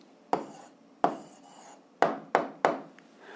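Five sharp taps of pen or chalk marking on a surface, spaced unevenly, each decaying briefly, close and quiet with no talk.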